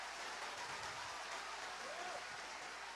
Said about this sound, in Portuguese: Se é para aplaudir, aplaude todo mundo junto com vontade.